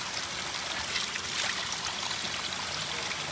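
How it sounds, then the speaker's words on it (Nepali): Spring water runs from an outdoor source in the Cameron Highlands of Malaysia, making a steady, even rushing splash with no pauses and no one talking. "यहाँ चाहिँ पानी आइरहेको छ मुख धुने पानी छ"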